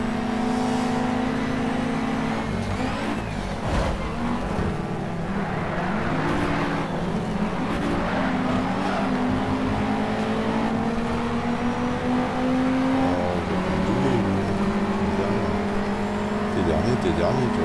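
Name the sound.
Ford Focus ST car racing in video game Shift 2 Unleashed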